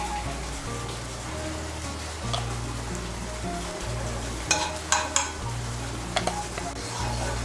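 Ghee melting and sizzling in a hot wok (kadai) before cashews and raisins go in, a steady close crackling hiss with a low hum beneath and a few sharper pops.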